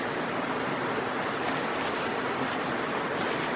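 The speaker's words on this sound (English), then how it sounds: "If you can hear me over the river" Steady broadband rush of a river flowing through Icebox Canyon, heard close and continuous with no break, filling the whole span without voices.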